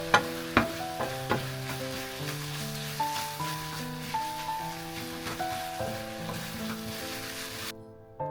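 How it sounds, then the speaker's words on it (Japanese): A homemade mentsuyu mixture cooks down in a pan while it is stirred constantly, with a soft sizzle and light scraping under steady background music. "焦げないように絶えず混ぜてくださいね。"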